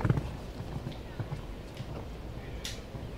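KWPN-approved stallion at a CSIO4* Nations Cup show jumping event in Wellington, its hooves thudding softly over a low arena murmur, with a voice heard briefly.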